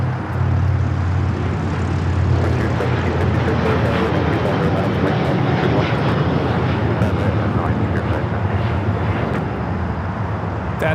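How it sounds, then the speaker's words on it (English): El Al Boeing 787-9 Dreamliner taking off from LAX, a broad, sustained engine roar heard from a distance, with people talking over it. "That is LL Flight 6 taking off to Tel Aviv on the 787-9 Dreamliner"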